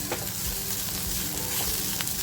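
Chopped onion hits a hot pan for a prawn chilli dish and sizzles loudly and continuously, a dense close hiss with no voices over it.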